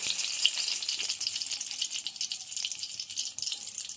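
Dry red chilli fries in hot mustard oil in a well-heated kadai, a steady, bright, hissing sizzle that stays close and even throughout, with no voices.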